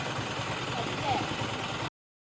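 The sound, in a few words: vehicle engine started and idling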